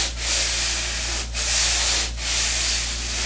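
Coarse 80 or 100 grit sandpaper rubs hard across a drywall patch in three long, loud strokes separated by brief pauses, a close, steady scratchy hiss with no voices.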